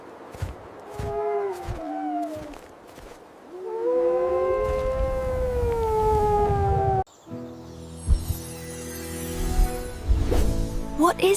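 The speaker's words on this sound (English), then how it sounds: "It's a wolf." A single long wolf howl rises and sustains loud and close, preceded by short yelping calls, then gives way to a different, harmonic animal call near the end.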